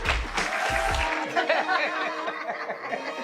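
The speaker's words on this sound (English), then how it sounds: "Give him a round of applause." An audience gives a round of applause for AJ McKee, a mixed-martial-arts fighter, with clapping and some chuckling laughter mixed in, a close voice briefly speaking at the start.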